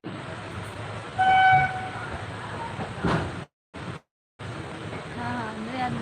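Steady rumble inside a moving passenger train in Bihar near Samastipur, with a brief horn-like tone early on and short dropouts partway through; a voice talks over the noise.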